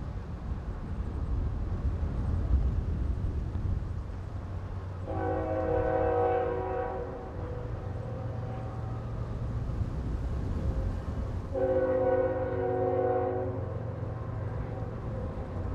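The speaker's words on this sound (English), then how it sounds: "a northbound train has come into view, with Warbonnet SD75I number 8300 at the head" BNSF Warbonnet SD75I locomotive leading a northbound train past the trackside, two long blasts of its multi-tone horn over a constant rumble of rolling wheels and engine, fairly distant and with no talking.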